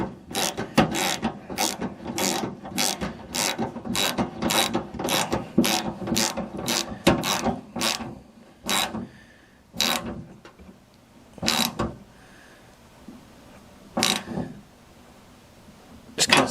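Ratchet wrench snugging down the bolts on a replacement tailgate handle of a Ford Ranger pickup: a fast run of sharp clicking bursts for about eight seconds, then several spaced single clicks, close and loud.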